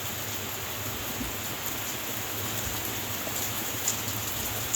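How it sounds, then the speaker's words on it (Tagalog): Heavy rain falling outdoors, a dense, steady hiss and patter that stays constant and close throughout with no voices. "Lakas ng ulan, guys."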